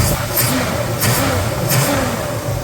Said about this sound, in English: Great throttle response. She comes up. Give her another one. And back down again.